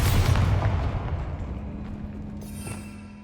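A Bombarda spell explosion in the Hogwarts Legacy video game: a loud booming blast at the start that rumbles and slowly decays into a lingering hum, with no voices.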